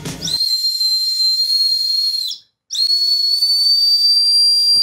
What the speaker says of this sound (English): Why doesn't it sound like an actual whistle?